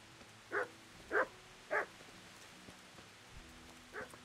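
Dog in the video game Kingdom Come barking three times in quick succession, then once more after a pause; soft, slightly distant barks over a quiet background hum.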